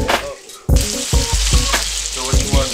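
Mushrooms and onions sautéing in grease in a pan for a stuffed chicken meal: a loud, close sizzle bursts in after a brief quiet start, with scraping stirs and clunks as the food is moved around.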